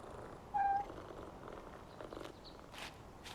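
Cats in the PowerWash Simulator 2 video game give a short, clear meow near the start, followed by soft purring and light in-game ambience, with no talking.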